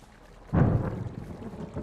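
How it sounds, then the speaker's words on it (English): Thunder rumbles in the video game Firewatch, a deep low roll that swells in suddenly and then lingers at a moderate level for a second or so, fading gradually like a distant storm. "Hey, I heard some thunder."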